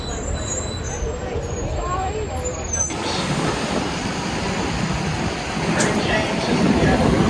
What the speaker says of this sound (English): We're waiting on the trolley bus